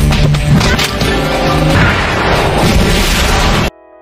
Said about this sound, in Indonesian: Mendengar ledakan itu,